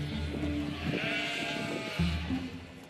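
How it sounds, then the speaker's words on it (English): Camden Merino sheep bleat close by: a couple of wavering bleats over a soft outdoor background, with no speech. "And it began with an animal like this, a small, hardy, timid breed of sheep."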